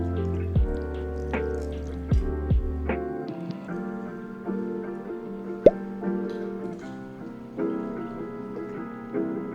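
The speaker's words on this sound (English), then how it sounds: "I'm gonna pour some of this broth into here" Broth is poured into a bowl alongside chrysanthemum leaves and acorn jelly, giving soft liquid splashes, drips and plops that come close and fairly quiet over a low background hum.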